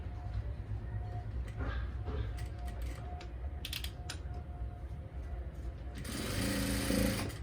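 Domestic sewing machine running continuously while stitching the hem of a salwar, a steady mechanical whir with small clicking, louder and busier toward the end.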